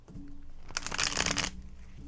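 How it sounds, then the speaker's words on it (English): A deck of tarot cards is riffled in one brisk, close shuffle lasting under a second, a dense papery flutter against a quiet indoor background. "one more shuffle"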